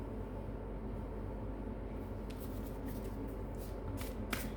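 Oracle cards are shuffled by hand close to the listener, with a low hiss first and then quick papery riffles and flicks, a few sharp ones near the end, and no voices.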